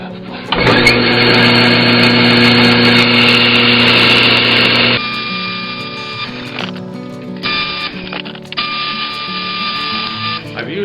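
A bandsaw fitted with a narrow 1/8 inch blade runs and cuts wood, first a loud steady whine, then quieter motor hum broken by short bursts of cutting.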